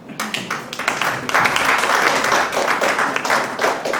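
Audience applause at an evening workshop during the Ghana Trade Expo 2021, steady dense clapping from a sizable crowd filling the room, close and loud throughout.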